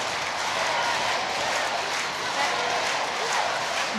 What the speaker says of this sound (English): Crowds getting noisier and noisier